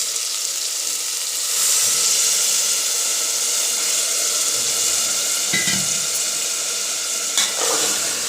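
A loud, steady sizzle of bottle gourd masala curry frying fills the clip, with a brief hiss and splash as water hits the hot pan.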